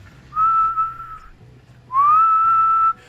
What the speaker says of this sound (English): I just start whistling as loud as I can.